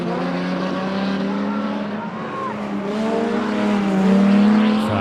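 Stock cars racing on a short oval track with a BMW spinning out, engines roaring continuously at close range, rising toward the end, with tire squeal mixed in.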